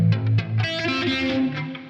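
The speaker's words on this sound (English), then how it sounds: "Reverb and flange." A short phrase of electric guitar through a Max 7 rig with Bias Amp and Uhbik, drenched in reverb with a swirling, sweeping flanger tone, played loud and close.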